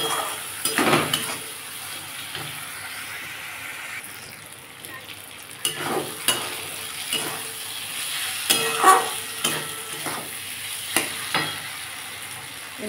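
Soaked red lentils (masoor dal) stirred in a pan, with repeated scraping and clattering strokes over a soft sizzle, close and fairly loud, in bursts.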